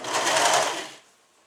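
A serger sewing machine runs in one short close burst, stitching and trimming a seam with its knife along the fabric edge for a suit, a dense whirring rattle that stops abruptly after about a second.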